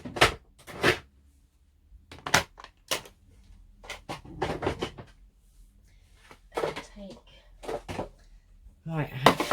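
A drawer in a craft room is handled during organising, giving irregular wooden knocks, slides and rustles of items being moved, close and intermittent, with a person speaking between the sounds.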